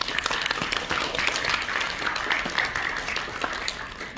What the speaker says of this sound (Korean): 박수를 이왕 크게 쳐주시기 바랍니다.